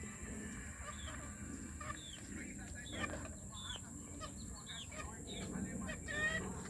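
Chickens on a Filipino farm, birds clucking and calling in scattered short bursts over a steady noisy background, with people talking nearby.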